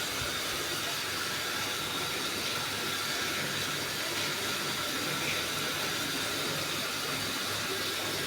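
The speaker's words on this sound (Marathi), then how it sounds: "विहिरीच्या मशीनद्वारे झाडांना पाणी." A well pump machine running and spraying water onto trees: a steady, loud, broadband hiss and rush of water spray with a low motor drone underneath, constant throughout with no breaks.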